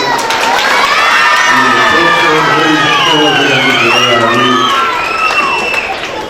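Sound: children cheering joyfully at a Pongal festival

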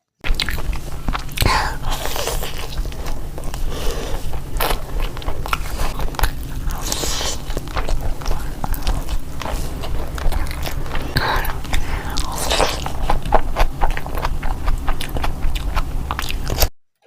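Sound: loud chewing and biting while eating

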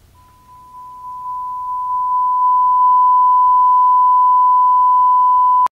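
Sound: sine wave audio test tone

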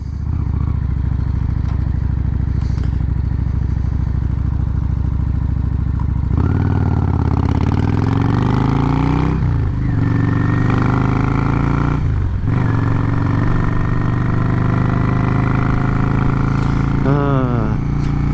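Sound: motorcycle engine idling and revving

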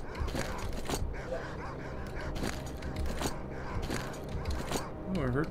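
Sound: dogs barking and whimpering in S.T.A.L.K.E.R. Call of Pripyat video game

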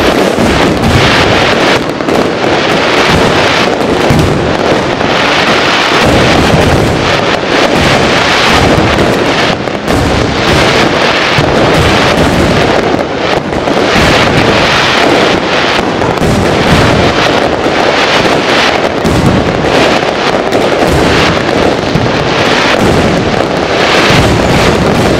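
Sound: firecrackers set off at a Vietnamese wedding

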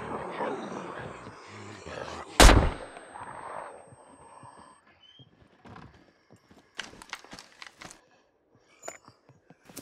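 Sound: gunshots in the SCUM video game

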